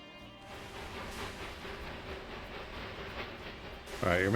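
A train runs on rails in the Railway Empire 2 video game, a steady rumbling roll with hissing and clattering texture throughout, growing slightly louder at the end.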